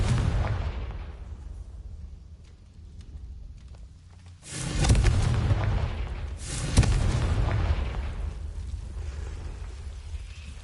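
Confringo blasting spell explosions in the video game Hogwarts Legacy, a muffled rumbling backdrop broken by two loud booming blasts a couple of seconds apart, each trailing off into a roar.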